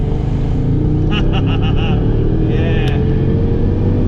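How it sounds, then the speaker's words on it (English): A 127,000-mile Mercedes CLS55 AMG V8 pulling hard, a loud, steady low engine roar heard from inside the car, with a brief voice over it. "You see, that's the wonders of a V8."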